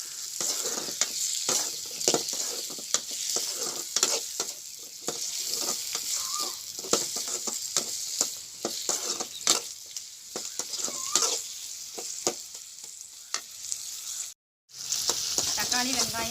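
Tomatoes sautéing in oil, with onions and green chillies, for a fish curry hiss in a continuous loud sizzle, punctuated throughout by regular clattering stirs of a spoon against the pan, with one brief silent gap near the end.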